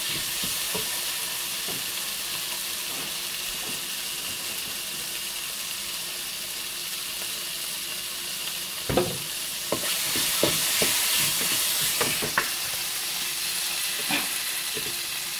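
Tomatoes sizzle in hot oil for a Kerala-style tomato curry, a steady bright frying hiss with intermittent scraping stirs and clinks of a spoon against the pan in the middle stretch.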